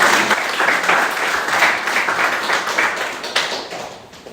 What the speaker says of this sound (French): On peut applaudir pour la sœur qui est pour les premières fois.